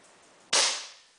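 A single sharp air gun shot fired at an electronic target in home training, a crisp close crack that decays quickly, heard alone.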